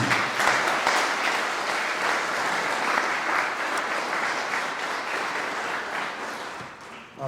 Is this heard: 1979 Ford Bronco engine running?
no